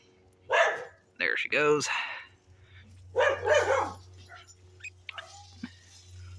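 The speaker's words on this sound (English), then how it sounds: "gonna start barking at the neighbors" A dog barks a few quick, close yelps at the neighbors near a backyard barbecue smoker, with a person talking over it and a low steady hum underneath.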